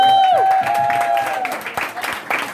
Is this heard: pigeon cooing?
no